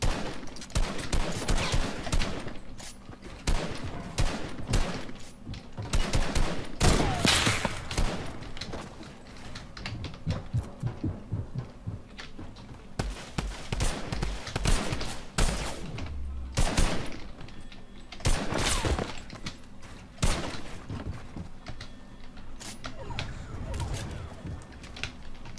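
Bursts of gunfire in the video game Fortnite, with rapid sharp shots and clustered volleys firing irregularly throughout, some loud and close, with brief gaps between exchanges.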